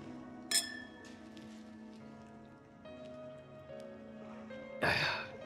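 Glasses clink together in a celebratory toast: a bright clink near the start and another louder, longer clinking burst near the end, with quiet room tone and faint background in between.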